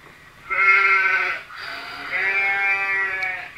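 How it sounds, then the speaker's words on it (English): A sheep bleats twice from a sound app, two long, wavering, clear cries close up, with a brief gap between them. "Sheep."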